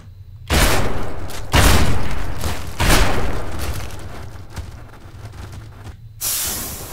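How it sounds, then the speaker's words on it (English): Grenades exploding in the ragdoll video game People Playground, three heavy booming blasts with hissing, crackling tails, loud and close, followed by a sustained fiery roar. "Grenade!"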